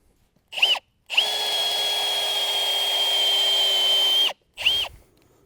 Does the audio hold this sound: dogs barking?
no